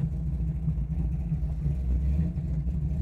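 Engine of a 1969 Chevrolet Camaro heard from inside while driving, a steady low, loud rumble that holds its pitch throughout with no talk.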